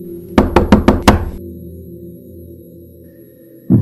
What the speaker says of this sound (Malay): Pintu bilik aku diketuk lagi.